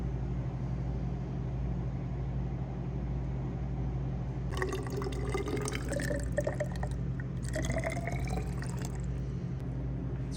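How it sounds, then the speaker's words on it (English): Snowmelt water poured into a measuring beaker, two short bursts of splashing, trickling liquid against a steady low background hum. "now we're going to measure the water into the beaker from the snow melt"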